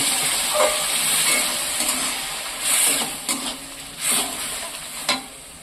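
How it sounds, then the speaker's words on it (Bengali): Tomato and eggplant fry in mustard oil inside a pressure cooker, a loud, constant sizzle broken by several scraping stirs of a utensil against the pot. "এইবার আমি টমেটো আর বেগুন তুলে দিচ্ছি এর মধ্যে।"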